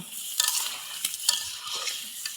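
Curry being stirred in a hot pan after cabbage is fried, with soft sizzling and several scraping stir strokes, close and fairly quiet, no talking.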